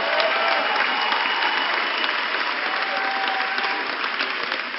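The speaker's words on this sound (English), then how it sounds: "How about a big round of applause for these two gentlemen?" Crowd applauding after a fight main event at a combat sports show, steady loud clapping and cheering from a large audience held for the whole stretch without letting up.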